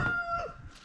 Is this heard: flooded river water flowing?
no